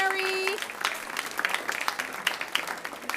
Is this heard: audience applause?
yes